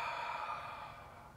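A single close, breathy exhale during an abdominal exercise, steady and airy before fading gently away, alone without talking.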